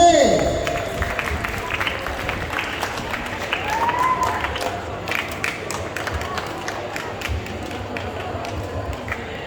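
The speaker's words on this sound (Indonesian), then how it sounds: "Tepuk tangan untuk regu C." An audience at an Islamic quiz contest for Aceh students applauds a team, with clapping and crowd noise running steadily throughout under a loudspeaker voice and a brief tonal whistle.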